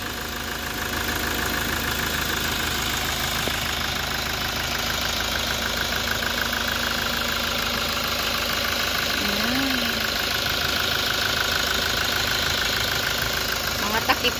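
A Toyota Innova engine idles steadily and close with an even mechanical chatter, and a voice talks over it at times.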